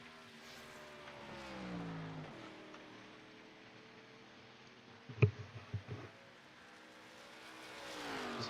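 Race car engine on the Pocono track in a sim racing video game during a qualifying run, a droning engine tone that rises and falls through gear changes, with a sharp knock midway and an engine swelling again near the end.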